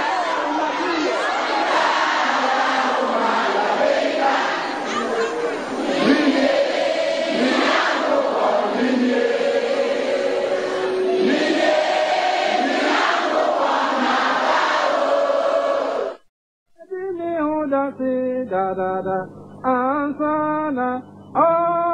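A large crowd gathered in West Africa roars and chatters in a continuous, dense wash of voices, swelling in waves before cutting off to a brief musical passage.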